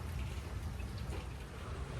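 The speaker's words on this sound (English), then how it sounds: "it is really, really raining" Heavy rain pours down steadily near a covered garden patio, a dense, continuous wash of hiss and low rumble with no break and no voices.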